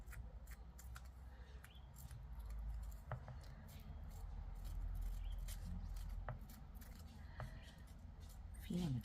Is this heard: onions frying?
no